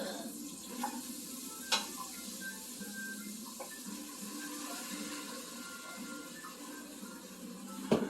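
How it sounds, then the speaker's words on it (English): Vegetables frying in butter in a pan, stirred with a soft continuous sizzle and a few sharp utensil clicks, moderately close and fairly quiet, with no talking. "You want to stir the vegetables?"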